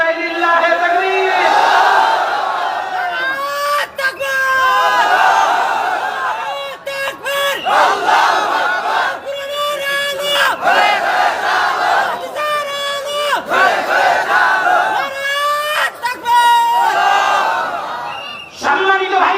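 A huge crowd of about thirty thousand at a religious sermon roars the takbir response together, loud massed voices rising and falling in repeated waves, with a lone preacher's voice urging them on between shouts.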